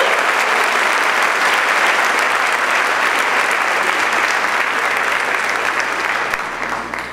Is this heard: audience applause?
yes